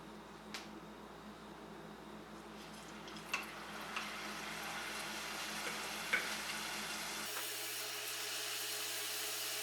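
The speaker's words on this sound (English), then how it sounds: "So we're gonna put them back into the oil." French fries getting their second fry in hot oil, a steady bubbling sizzle with occasional light clicks and pops, fairly quiet, ending with a sudden shift in background tone.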